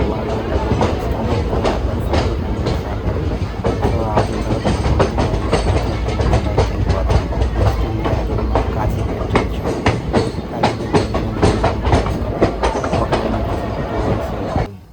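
The Kakatiya Express (17660), running from Bhadrachalam Road toward Secunderabad, rolls steadily along with continuous rumble and repeated clickety-clack of wheels over rail joints, heard loud and close from on board.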